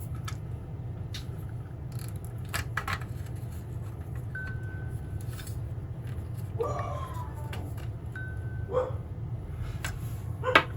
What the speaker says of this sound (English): You hear them barking? Going nuts.